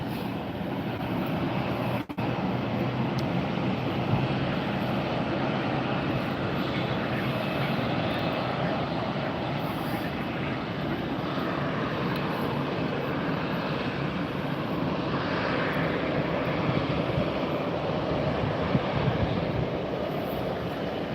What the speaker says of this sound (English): Now we've got an Embraer Phenom 300 taken off.